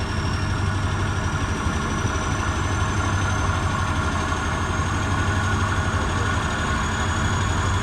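A truck engine idles steadily throughout, a constant low rumble with mid-range hum and faint vibration, near and unbroken, with no talk.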